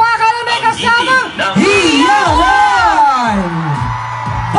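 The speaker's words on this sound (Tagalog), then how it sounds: "Sabay-sabay tayo magpalakpakan na may kasamang" A crowd at a Pasig rally for Vic Sotto whoops, yells and cheers loudly and without pause, voices rising and falling close by; clapping is hard to pick out beneath the shouting.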